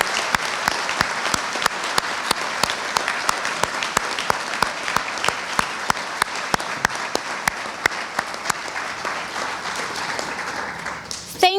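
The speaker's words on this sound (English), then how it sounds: "please, everybody, help me in giving them a warm and grateful applause." Warm, sustained applause from an audience at a county recreation and parks volunteer awards evening, dense steady clapping with sharp individual claps poking through, continuing for the whole stretch and tapering at the very end.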